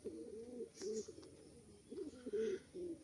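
Crested fancy pigeons, a white-crested pair, cooing in soft repeated rolling phrases, fairly faint and close, with short pauses between bursts.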